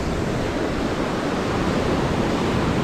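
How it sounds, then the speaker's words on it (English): Open ocean waves churning below a Celebrity Reflection cruise ship balcony on deck 6 during a sea day toward Cozumel, heard as a steady, close, broadband rushing wash with some wind, no voices. "you can see the action of the waves right here, going pretty good"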